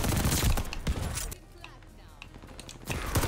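Rapid gunfire from the VOLK rifle in Call of Duty Vanguard, loud bursts at the start and end with a quieter gap between, mixed with in-game effects.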